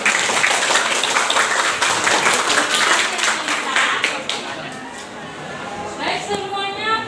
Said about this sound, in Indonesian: Tepuk tangan untuk Melisa